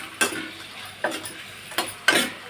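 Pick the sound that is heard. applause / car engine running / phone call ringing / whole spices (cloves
whole spices (cloves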